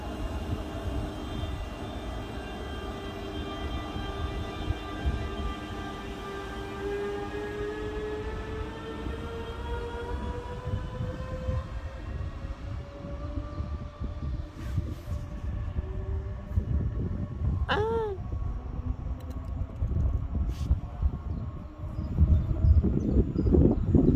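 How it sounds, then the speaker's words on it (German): RE30 regional express train pulling out of Treysa station toward Kassel, a rising electric motor whine with steady rolling rumble and a brief squeal, growing louder toward the end. "Jetzt fährt der Zug ab."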